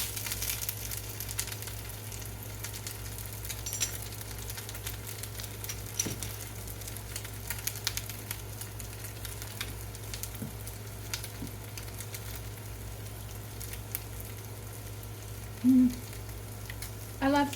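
Salmon patties fry in hot oil in a pan, giving a faint, steady sizzle with soft crackles and occasional light clinks throughout.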